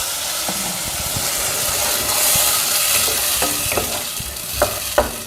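Ground tomato paste hits hot oil in a pot of bitter gourd sambar, releasing a loud, sustained sizzle with bubbling spatters and a few sharp clanks of a spoon toward the end.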